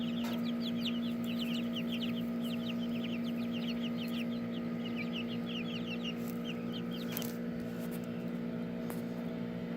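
Young chickens cluck and chirp outdoors on grass, a busy run of short calls spread across the whole stretch over a steady background hum, with no talk.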